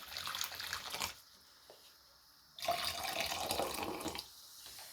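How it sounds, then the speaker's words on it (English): Hot water pours and splashes onto dyed fiber in two bursts separated by a quieter pause, close and moderately loud, with a soft gurgling fill and no talking. "And then I'm going to go and finish it off with some nice hot water."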